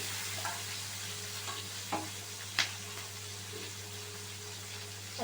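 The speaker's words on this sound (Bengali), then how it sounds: "আমি এখানে পেঁয়াজ আর টমেটোটা ভালোভাবে ভেজে নেবো" Onion and tomato frying in a pan, a steady soft sizzle running throughout with a few light scraping stirs and taps of a utensil, close and moderately quiet.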